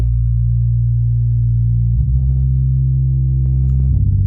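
A deep, sustained Reese bass synth drones loudly with a thick, slightly wobbling detuned tone, shifting pitch a couple of times while running alone, in a melodic techno track.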